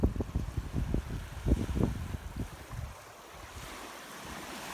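Waves wash onto a foggy, misty beach at dusk, a low rumbling surf with wind buffeting the microphone; several surges in the first three seconds, then a softer, steady wash.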